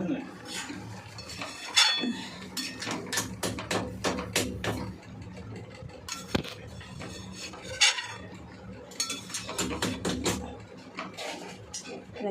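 Potatoes stirred in a cooking pot: a series of irregular metallic clanks and scrapes of a utensil against the pot, some sharp and close, with soft talk in between.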